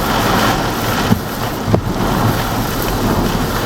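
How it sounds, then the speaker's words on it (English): Heavy rain and strong wind from Hurricane Francine roar as a constant, dense wash of noise, with gusts buffeting the microphone and a couple of brief knocks breaking through. "That's a lot of rain."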